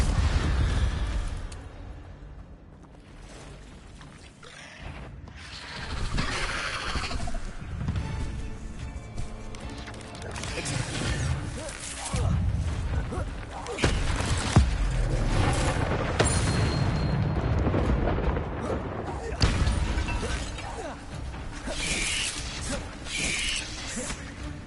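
The Incendio fire spell in Hogwarts Legacy on PS5 fires off in repeated bursts of whooshing blasts and booming impacts, buried in a dense, loud, continuous mix of combat effects and background score.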